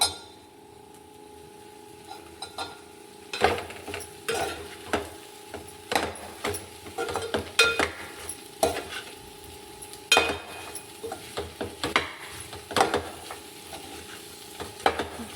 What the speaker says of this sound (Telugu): ఈ కారం కొంచెం వేగిన దాకా ఇలా మనం కలుపుకుంటూ ఉండాలి, అడుగు అంటకుండా.